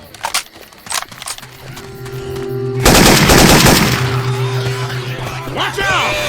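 A Syphon Filter weapon sound modded into Left 4 Dead 2 lets out a loud, sustained burst of rapid machine-gun fire after a few scattered shots, with voices partly beneath the din.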